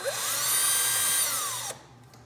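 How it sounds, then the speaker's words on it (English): A power drill whirs steadily as it backs the screws out of a Casio FX-CG500 graphing calculator during a teardown, its pitch rising at spin-up and then cutting off abruptly, leaving quiet room tone. "Alright, so we're using a drill because, well, why not?"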